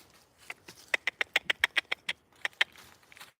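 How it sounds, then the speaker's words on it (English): Ducks quack outdoors in a natural setting, a rapid run of about a dozen sharp, nasal calls in an uneven rhythm, moderately near and clear, with no talk over them. "Pretty sure she's already chasing ducks."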